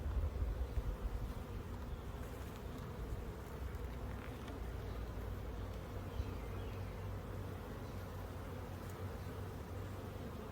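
Honey bees buzz around an open hive in a bee yard, a steady, dense hum that stays even and close throughout with no voices.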